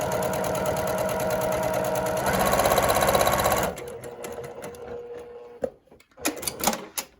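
A sewing machine stitches a quarter-inch seam through a quilt pinwheel intersection, running steadily loud for several seconds, then slowing into short bursts and single stitches with pauses before stopping.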